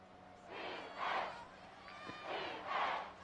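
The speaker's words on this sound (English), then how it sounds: "this home crowd wants to stop here. Chanting defense." A home stadium crowd in the Madden 24 football video game chants rhythmically for defense, rising and falling in several swells at a moderate distance with no voices over it.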